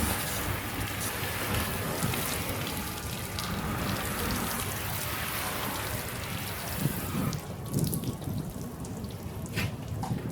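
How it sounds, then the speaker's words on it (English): Water runs in a steady gentle rinse over a car headlight after toothpaste scrubbing, a continuous soft splashing hiss, close and with no talk. "So we're just going to do a gentle rinse off here."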